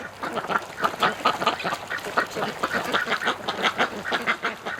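Several ducks quack repeatedly and overlapping, a busy chorus of nasal calls at moderate distance with no talking.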